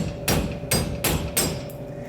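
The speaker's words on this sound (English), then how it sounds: "And then I'm going to put a machete behind it and then just hit it with a hammer." A hammer strikes a machete wedged behind the front panel of a soda machine, four loud, evenly spaced metallic blows close by.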